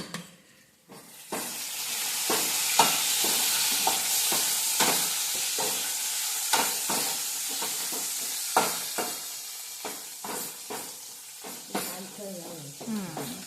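Hot oil sizzles and crackles loudly as garlic fries for a colocasia leaf dish, with repeated sharp bursts from stirring, close up and without voices.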